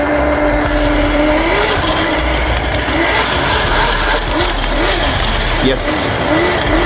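A 72-volt electric mini quad with a short wheelbase drifts on a rough surface, its tires squealing in short wavering bursts over steady motor whine and ground rumble, with someone talking over it.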